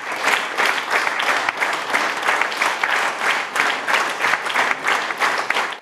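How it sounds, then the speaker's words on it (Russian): A theatre audience applauds at a play's premiere: sustained, loud, dense clapping that rises and falls in gentle waves throughout, with no voices standing out. "Аплодисменты не стихают несколько минут."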